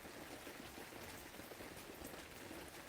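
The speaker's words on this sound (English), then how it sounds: "nice and rainy here" Steady rain falls outdoors, a dense, even patter of drops striking surfaces that holds at a constant moderate level throughout, with no voices.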